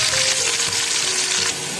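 Tomatoes and green chillies frying in a hot pan, a loud, close, dense sizzle that crackles steadily throughout without speech.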